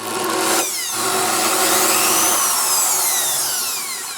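An electric drill clamped in a drill mount whirs steadily at close range, its pitch rising and falling slightly as it runs, with no voices.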